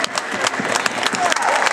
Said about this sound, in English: give your big round of applause